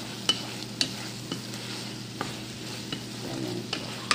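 Pork liver cooking in a pan, with steady soft frying and sizzling underneath and a few sharp stirring clinks and scrapes of a utensil at irregular intervals, close by and with no talking.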